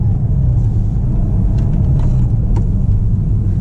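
A 2009 Porsche 997 Turbo Convertible driving with its windows up, a steady low engine and road rumble from inside the cabin, constant and fairly loud, with a few faint clicks over it.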